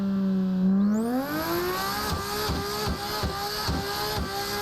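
A car engine held at full throttle while drifting, revving up sharply and then holding a high, strained whine, with rhythmic dips and surges as the tyres break loose, loud and close.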